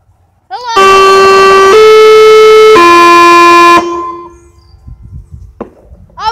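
Monthly civil defense siren test sounding in a loud, close, sustained horn-like blast that steps through three steady pitches for about three seconds, then cuts off, with voices talking faintly before and after.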